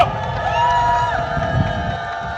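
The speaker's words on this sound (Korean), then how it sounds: "박수 부탁드리겠습니다." At a rally pressing for an investigation into election commission hiring corruption, a crowd cheers and claps in a sustained, fairly close roar, with drawn-out tonal cries riding above the noise.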